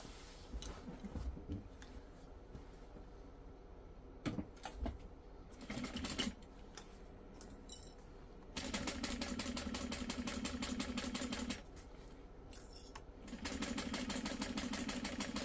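A sewing machine runs in sustained bursts while stitching the exterior pieces of a fabric bag, with a steady whirring motor hum over a few seconds, a pause, then another longer run, close and moderately loud.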